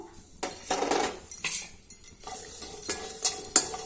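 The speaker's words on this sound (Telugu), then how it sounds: "చూడండి ఇట్లా మిరపకాయలు అయితే వేయించుకోవాలి" Dried red chillies fry in oil in a pan while a spoon stirs them. There are repeated close scraping strokes and light clinks over a soft, steady sizzle.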